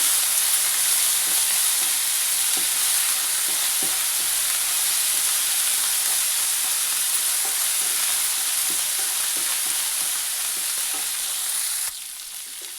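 Ginger-garlic paste frying in a pan for paneer curry, a loud continuous close sizzle with occasional stirring scrapes, alone with no talk, easing slightly near the end.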